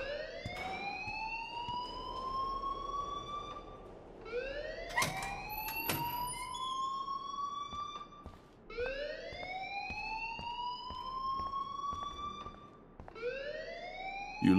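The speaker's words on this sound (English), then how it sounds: "please turn off that alarm since that's your job" A school alarm in the Life Is Strange video game wails in repeated rising sweeps, each lasting a few seconds, steady and moderately loud with a few sharp clicks between them and no voices.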